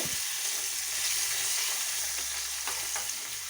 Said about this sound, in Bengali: ছাকা তেলে এটা আমি ভেজে নেব